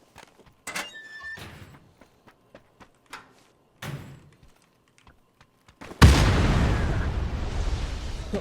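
In PUBG, scattered clicks and thuds give way to a sudden loud explosion of a motorbike, followed by a sustained roaring rumble.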